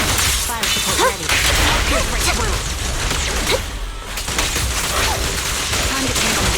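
Fire support gunfire in Zenless Zone Zero, rapid loud bursts of shots and impacts layered with whooshes and crashes, dense and continuous, with game voices mixed in.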